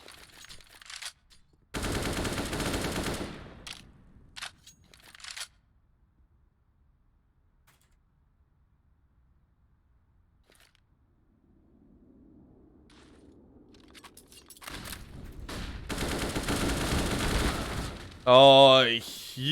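Bursts of rapid automatic gunfire in a CS:GO esports match, loud dense volleys around the start and again near the end, separated by a long quiet stretch with faint low rumble.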